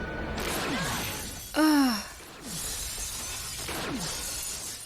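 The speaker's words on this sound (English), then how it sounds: "Okay, he shot the glass." Glass shattering from a gunshot in a TV episode, a loud crash with bright ringing shards lasting about half a second, set among quieter sighing and swooping effects.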